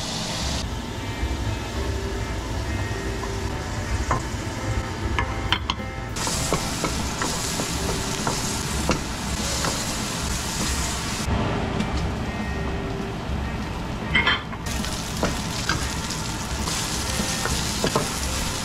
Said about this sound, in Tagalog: Lagyan ko ng butter, ng star margarine para panggisa.